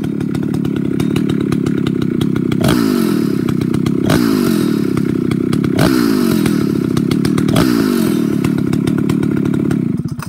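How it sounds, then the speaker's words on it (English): An old chainsaw fitted with a governed carburetor idles close up with a steady rattling drone, broken by four sharp revving blips at roughly even intervals before settling back each time. "Right there is the blip test"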